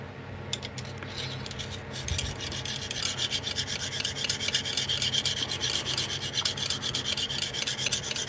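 A file rasps back and forth along a blade edge to raise a burr, sparse scrapes at first that settle into rapid, even strokes, close and fairly loud, with no talking.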